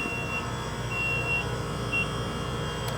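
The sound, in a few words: ice cream maker beeping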